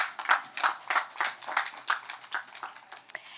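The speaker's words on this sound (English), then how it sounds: "Please give them another round of applause." Audience applause for a quartet at an Open Market Day event, a steady patter of many hands clapping at moderate volume, continuous and fairly close.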